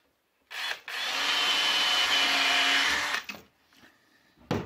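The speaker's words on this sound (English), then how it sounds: "So first thing we're going to do is drill a hole." A power drill bites into boat-building wood for about two and a half seconds, a close, steady whirring grind, followed by brief knocking and handling sounds.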